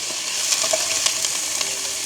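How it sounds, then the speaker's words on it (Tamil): Garlic and curry leaves sauté in a large pan, giving a steady bright sizzle with small pops and a few light stirring scrapes close by. "உள்ளியும் போடுவோம். அதோட கருவேப்பிலை ரொம்ப நல்ல வடிவாக இது வதங்கணும் எங்களுக்கு."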